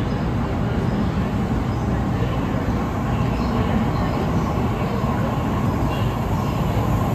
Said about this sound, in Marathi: आली मेट्रो आली.